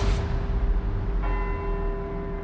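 Church bells ring across Edinburgh in the Forza Horizon 4 racing game, steady sustained bell tones over a low rumbling backdrop, with a second higher tone joining partway through.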